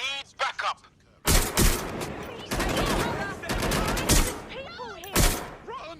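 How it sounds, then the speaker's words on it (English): Gunfire in the video game Watch Dogs Legion comes as loud, dense bursts of shots and rapid volleys mixed with game effects, while voices shout over the action. "Shots fired!"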